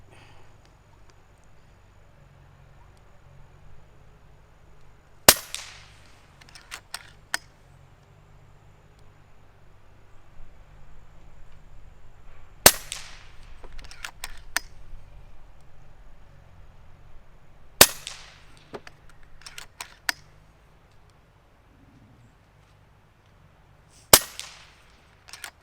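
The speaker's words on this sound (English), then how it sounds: "we're going to shoot our 50-yard group and give it 5 shots and see how she does" Five shots from an FX Crown MKII .30 caliber air rifle on a 50-yard range in light wind, each a sharp crack spaced several seconds apart, with small clicks and handling noises between them against a quiet outdoor background.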